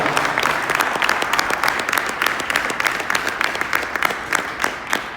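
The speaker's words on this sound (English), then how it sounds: "Let's give him a round of applause." Dense, steady applause from a signing-day gathering fills the whole stretch, many hands clapping close and loud with a few faint voices mixed in.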